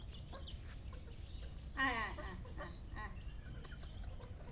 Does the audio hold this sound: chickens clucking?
yes